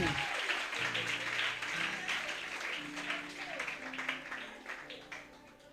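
A church congregation claps and cheers in acclaim of Jesus, a dense, sustained wash of applause with shouting voices mixed in, fairly distant and steady throughout.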